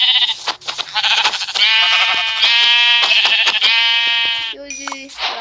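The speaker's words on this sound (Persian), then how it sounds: "به به، 2 تا گوسفند همین اول" Two sheep in a Minecraft survival world give a run of loud, close, wavering bleats, one long drawn-out cry followed by a shorter, higher call at the end.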